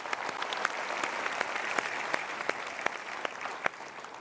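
An audience claps at a motivational talk by Mario Teguh, a dense, even round of applause with sharp individual claps popping through, steady across the whole stretch and moderately close.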